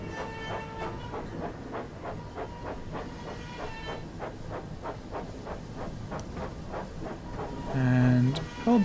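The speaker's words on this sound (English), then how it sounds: "Don't mind me, just pressing the whistle for a laugh." A steam locomotive in the game Train Sim World 5 chuffs rhythmically with hiss and clatter, then a short whistle blast sounds near the end, with faint talk underneath.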